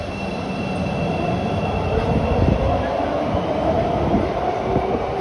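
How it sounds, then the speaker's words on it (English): An 8-car CTA Red Line train in Chicago pulls into a rebuilt station platform with a loud, continuous rumble of wheels and rails, a thin high squeal running over it, before cutting off abruptly at the end. "the 8-car train pulls into this 10-car platform"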